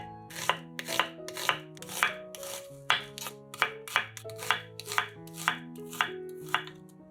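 A knife chops two medium onions into half rings on a board, making a steady series of crisp cuts about three per second over background music.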